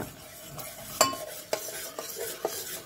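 A spoon stirring thick, sticky red rock sugar syrup in a pan gives a few distinct scraping knocks at intervals over a soft sizzle, close and fairly quiet.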